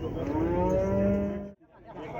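A cow at the Kyzylorda livestock market gives one long, loud, drawn-out moo that cuts off abruptly, followed by faint market background noise.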